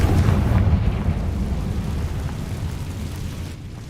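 Confringo blasting spell in Hogwarts Legacy goes off as one loud, close, rumbling explosion that booms at the start and slowly fades into a low roar.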